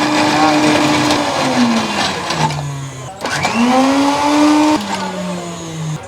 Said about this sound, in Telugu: మిక్సీ అయిపోవడానికి కొంచెం టైం పడుతుందండి, కొంచెం మెత్తగానే చేయాలి